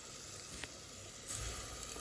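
Paste sizzles softly in a pot over low heat, a faint steady crackle with a brief burst of stronger frying near the end.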